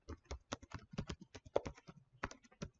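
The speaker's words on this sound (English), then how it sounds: "I'm probably typing really loudly." Rapid, irregular clicking of keys on a computer keyboard, heard close and on its own, with short bursts and brief pauses as someone types.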